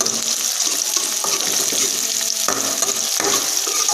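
Onions sizzle and crackle steadily in a hot pan, with occasional scraping and stirring sounds over the constant hiss of frying.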